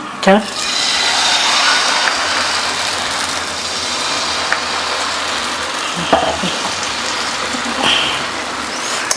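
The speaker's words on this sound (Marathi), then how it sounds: "आता आपण हा उत्तप्पा बनवतोय मस्त गाजर बिजर भारी दिसते" A carrot-topped uttapam cooks on a hot griddle with a steady, close, crackling sizzle that runs unbroken throughout, dotted with a few faint clicks and taps.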